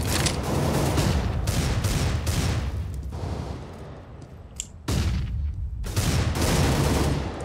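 Rapid bursts of automatic gunfire from Counter-Strike: Global Offensive, loud and dense in several volleys with brief pauses between them, and no talking.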